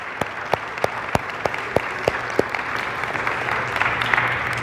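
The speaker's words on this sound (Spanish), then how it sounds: "Dale la aplauso." A church congregation claps in rhythm, sharp unison claps at a steady beat that then blur into looser, continuous applause with crowd noise underneath.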